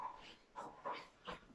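A vizsla puppy breathes and snorts close by in a few short bursts, soft and quiet, with faint whimpering sounds between them.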